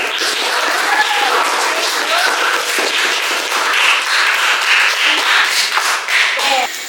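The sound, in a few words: classroom applause for a student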